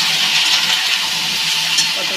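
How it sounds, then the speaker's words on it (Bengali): Potato and pointed gourd frying in a pan with turmeric and salt while being stirred: a steady, close, dense sizzling hiss with light scraping of the stirring, no voices. "পটলটা ভাজা করে নিই।"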